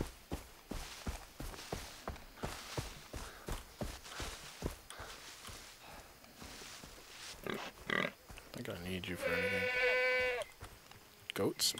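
A harmonic goat bleat rises out of a Far Cry 3 game soundscape of rapid footsteps and shuffling, one drawn-out animal cry near the end.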